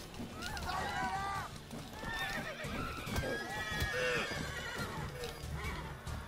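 A horse in The Witcher 3 neighs and whinnies repeatedly amid hoof clip-clops and game battle noise, fairly loud, with voices speaking over it.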